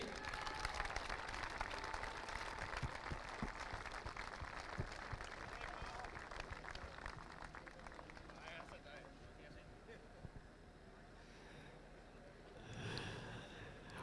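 Crowd applause at an Irish Drift Series pro battles round, loud and sustained across most of the stretch, with an announcer talking over it before it thins and fades toward the end.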